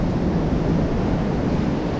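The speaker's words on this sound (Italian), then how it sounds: "Quindi vedete, arrivano ste onde." Rough, choppy sea surges against rocky shoreline during a day of fishing, producing a continuous loud, broadband wash of water and wind noise with no distinct individual breaks.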